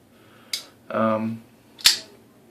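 A Reate Distract-9A folding knife with a bearing pivot and CPM S35VN blade flicks open, giving a crisp click, a short ringing whir, then a sharp snap as it locks, close and alone.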